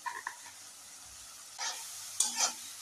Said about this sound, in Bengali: এটা এখন সুন্দর করে ভেজে উঠিয়ে নেবে